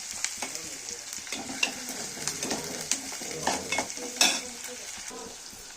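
Onions frying in oil, a steady close sizzle with a bubbling crackle and frequent scraping stirs and light clicks of a utensil against the pan, no speech.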